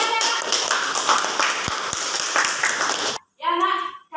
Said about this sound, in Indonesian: Latifah kasih tepuk tangannya.